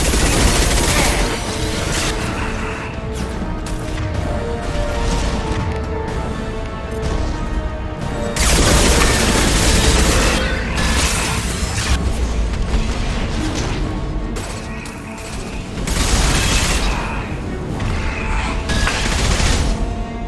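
Heavy gunfire and high-impact shots in Mass Effect 2 burst loudly in repeated volleys, with booming impacts and rapid firing stacking up in a dense, continuous combat din.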